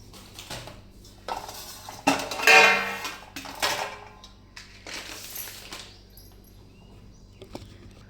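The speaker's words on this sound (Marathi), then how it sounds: "आता भांडी बाहेर काढायची सगळी." Dishes and pots are gathered up for washing at home, a few scattered clanks and metallic clatters of utensils, fairly close, with quiet pauses in between.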